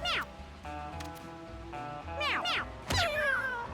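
Cartoonish cat meows from the video game Mewgenics, several short rising calls over a busy bed of game music and effects, with a louder cluster near the end.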